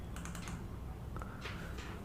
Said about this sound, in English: double click on this and you can start typing